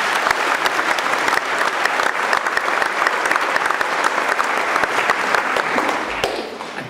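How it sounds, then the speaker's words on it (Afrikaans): A church congregation at a confirmation service claps loudly and continuously, a thick roomful of hands applauding for about six seconds before fading near the end. "Kom ons gee 'n groot hande klap."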